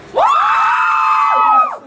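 A crowd of young fans at a pop concert event in New York lets out a loud, sustained scream of cheering, rising sharply, holding for over a second, then dropping away.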